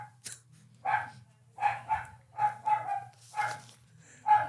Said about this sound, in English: Is that why he's barking?